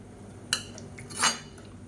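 A spoon scrapes and clinks against a pot while mutton kulambu is stirred, two short metallic knocks close by in an otherwise quiet kitchen.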